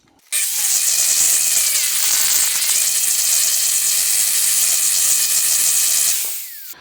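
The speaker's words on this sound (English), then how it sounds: "It's going to be done on a 4-inch grinder and a dust mask." A 4-inch angle grinder polishing a stone pillar cap, a loud continuous high-pitched whine with grinding hiss running steadily for about six seconds before winding down.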